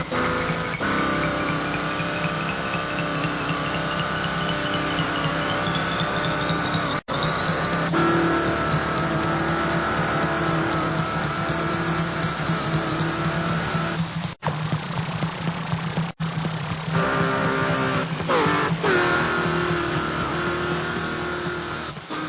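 A car engine runs steadily and rises in pitch as the vehicle pulls away, a continuous close motor drone with a brief gap partway through, staged as a radio drama sound effect.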